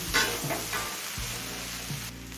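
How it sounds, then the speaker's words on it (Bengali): Rice and lentils fry with spices in a pan, giving a steady close sizzle with a few scraping stir strokes and no voices. "ডাল আর চালটা মশলার সাথে মিশিয়ে পাঁচ ছ মিনিট ভেজে নিয়েছি"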